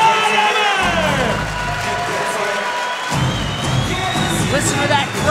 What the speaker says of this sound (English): Listen to that crowd roar for Sten Saaremäe